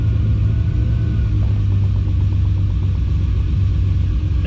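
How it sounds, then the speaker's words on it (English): Ferrari 330 idling hot as its electric cooling fan kicks on, a steady low engine rumble with a faint whirring fan layered over it, close and continuous, no talking. "So that's the cooling fan turning on."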